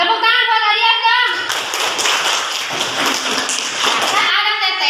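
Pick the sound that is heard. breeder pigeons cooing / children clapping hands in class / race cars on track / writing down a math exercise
children clapping hands in class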